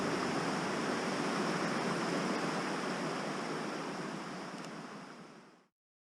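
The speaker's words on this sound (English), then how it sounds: "you can follow the little waterfalls up through the rocks into the distance" Small waterfalls on a Dartmoor river in winter rush over rocks in a steady, broad hiss that stays constant and then cuts off abruptly at the end.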